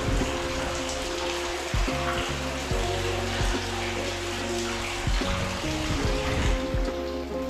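Water flows steadily and loudly at a village temple site, a continuous close rushing wash with slight surges throughout and no talk over it.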